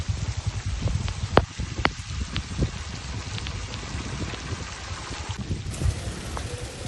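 Heavy rain pouring down in Kot Nainan, a dense steady hiss of falling water with scattered sharp drip and splash hits close by, continuous throughout.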